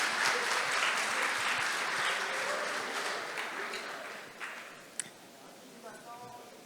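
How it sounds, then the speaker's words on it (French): A crowd applauds loudly and steadily after a startup pitch at a networking event in Paris's Palais Brongniart, the clapping gradually thinning and fading out near the end. "Je vous donne d'applaudir très fort"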